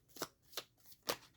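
Oracle cards are shuffled for a reading: three quick, crisp riffling bursts at an even, unhurried pace, close and quiet, with no voices.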